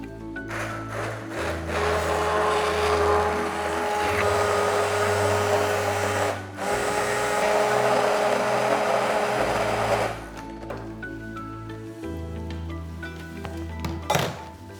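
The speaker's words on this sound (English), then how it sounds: "using a stick blender, I'm being very careful because it is hot, we're just going to give this a blitz." A stick blender blitzing hot roasted tomato, garlic and pepper soup in a pot, a loud continuous motor whir that shifts pitch as it churns, stopping briefly and restarting before a final clunk.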